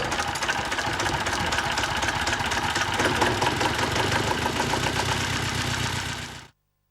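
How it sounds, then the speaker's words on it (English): A hand-started diesel engine, cranked with a decompression lever, runs steadily with a rough, knocking idle, continuous and close, then cuts off abruptly near the end. "Hand starting usually involves the use of a decompression lever to enable the engine cranking to reach speed for initial ignition."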